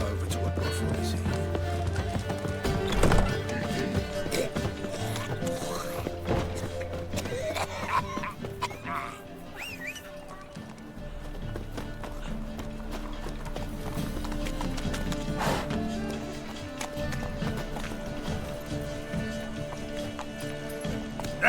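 Roach, Geralt's horse in The Witcher 3 video game, galloping with rhythmic hoof clip-clops under music and spoken dialogue.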